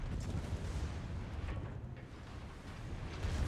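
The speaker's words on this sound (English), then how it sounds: "So there goes a Bismarck gun." Main guns of the Bismarck battleship fire in World of Warships, giving a steady, heavy low rumble of distant artillery booms with no talking.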